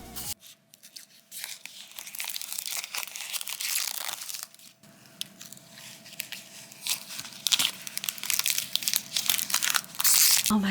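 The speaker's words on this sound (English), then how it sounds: "Are you ready for some peel-off ASMR?" Protective film peeled off a freshly made plate just lifted from its base plate, a long crinkling, tearing crackle running steadily with brighter crisp bursts toward the end, close and alone without talk.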